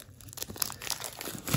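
A trading card collector box wrapper is torn open, giving a soft, irregular crinkling and ripping that comes in several close, quiet bursts.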